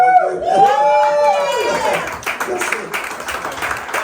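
Audience applause with scattered cheering in a room, a steady clatter of clapping under and after a loud voice speaking over it.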